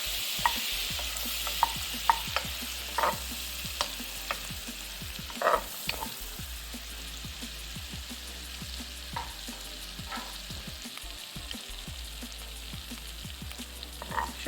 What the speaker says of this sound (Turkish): ince ince doğramış olduğum 2 diş sarımsağı ilave ediyorum. Biraz sarımsağın kokusunun çıkmasını bekliyorum kavurarak.